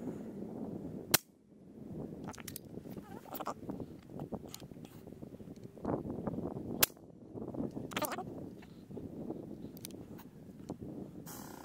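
Two sharp, crisp shots from a medium-power PCP hunting air rifle on a remote cylinder filled to 200 bar, spaced several seconds apart over a steady background hiss, with no talking.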